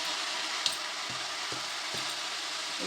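Banana flower and potato frying in a pan, about to be cooked down with cumin, turmeric, ghee and garam masala: a dense, even hiss of frying throughout, with soft periodic stirring taps, close and continuous.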